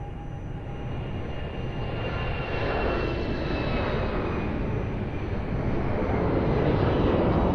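An airliner on approach to land at Lisbon Airport makes a broad, steady engine roar that swells gradually louder as it nears, with a faint whine above and no voices.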